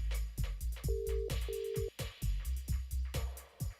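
A telephone ring tone sounds twice in short bursts over a rhythmic beat of music, moderately loud, with no talking.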